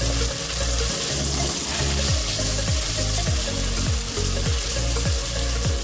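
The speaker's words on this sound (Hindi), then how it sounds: "अब इस स्टेज पे आके हम प्याज ऐड करेंगे।" Finely chopped medium onion fries in a pan with ginger garlic paste for a dhaba-style daal mash, giving a loud, steady sizzle that never lets up.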